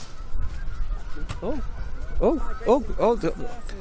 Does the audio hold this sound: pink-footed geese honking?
yes